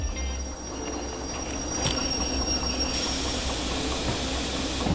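Train wheels squeal and grind as they skid under the brake in the game Derail Valley, a continuous high metallic screech over a low rumbling rail roar with faint clicking.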